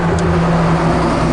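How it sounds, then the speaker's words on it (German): A heavy truck rolls past outside a camper van, heard as a loud, steady low drone with a faint hum and no talking. "LKW fährt vorbei"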